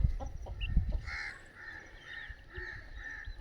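Desi roosters on a poultry farm give a few clucks and calls, with a rustle of movement at the start, followed by steady, moderately loud vocal bursts from the flock.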